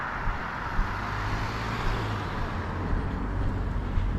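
A car turning on a suburban road, its engine and tire noise forming a steady moderate rumble nearby, with faint background traffic and no talking.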